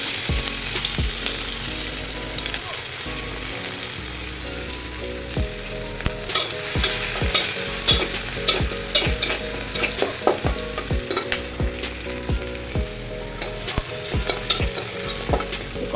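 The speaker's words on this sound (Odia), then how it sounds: "କଡ଼େଇରେ ଆଉ ଟିକେ ତେଲ ଦେଇକି ପିଆଜ ପକେଇଦେବି" Onions frying in oil in a well-seasoned kadai used for five or six years, with a loud continuous sizzle and crackle and repeated stirring scrapes and taps of a spoon.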